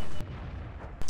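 AMX ELC bis light tank firing its gun in World of Tanks on the Steppes map: one loud, sharp shot at the start, a lower rumbling tail, then a second sharp blast about a second later.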